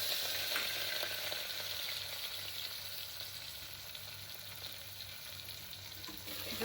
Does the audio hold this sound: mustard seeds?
yes